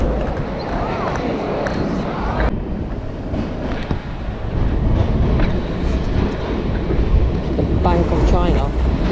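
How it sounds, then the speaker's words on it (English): A tram rumbles past nearby on a street in Milan, with low rolling noise and wind buffeting the microphone, traffic sounds around it. "Tram right there."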